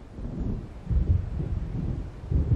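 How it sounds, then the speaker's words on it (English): Low rolling thunder of an approaching storm in the video game Alan Wake, a deep rumble with a couple of heavier swells, blended with faint wind and rain, moderately distant and without voices. "It seems there's a storm coming."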